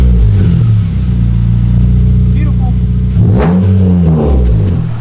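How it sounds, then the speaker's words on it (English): A car engine fitted with a catback exhaust idles with a steady, loud low rumble, then revs sharply and settles back, with a brief spoken word over it. "So while we're here, we might as well turn the car on."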